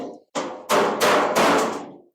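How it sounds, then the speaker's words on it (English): A hammer strikes against a dolly on the body panel of a 1956 customized International cab-over pickup truck, four loud metallic blows in quick succession, close by. "You have a hammer and then you have something you're using as a dolly."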